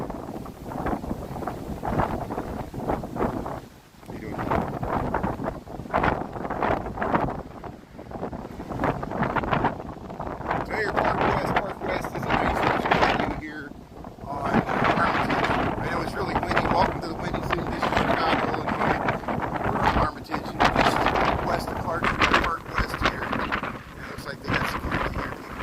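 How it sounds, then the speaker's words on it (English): Strong wind on a Chicago street buffeting the microphone in long, roaring gusts that rise and fall continuously, loud and close. "Here's the wind."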